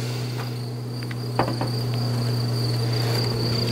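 Honey bee colony in a hive, giving a steady droning buzz with a constant hum and occasional louder passes of individual bees close by.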